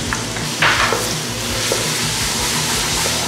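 Garlic sautéing in a lightly preheated pan of hot oil, a steady close sizzle with soft stirring scrapes throughout and no talk.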